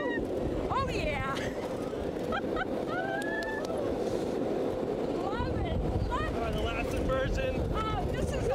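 Steady roar of the West Coast Racers roller coaster at Six Flags Magic Mountain, a continuous rushing rumble of wind and track noise throughout, with excited riders talking and exclaiming over it.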